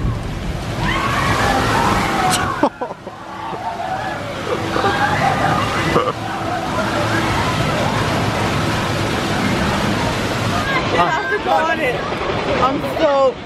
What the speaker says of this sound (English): They're waiting for the giant tidal wave to hit them.